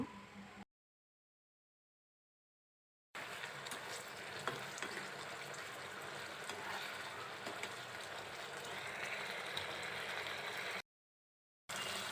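Okra curry with cumin powder being stirred in a hot pan, a steady sizzling fry with faint scraping of the spoon, broken by two stretches of silence.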